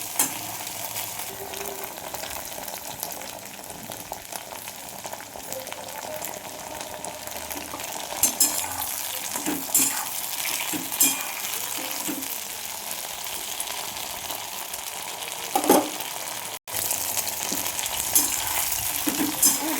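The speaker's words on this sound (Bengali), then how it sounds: "ঢেঁড়সটা ভাজা ভাজা হয়ে গেছে।" Steady oily sizzling of okra frying in a pan, with intermittent scraping and clinking as it is stirred, continuous and fairly close.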